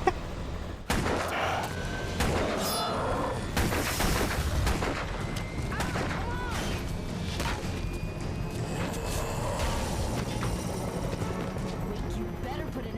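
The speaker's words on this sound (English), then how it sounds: "Hang on, flashbangs." Repeated flashbang blasts and gunfire-like bursts in the Alan Wake video game, loud sharp booms recurring through a dense game soundscape, with a voice speaking over parts of it.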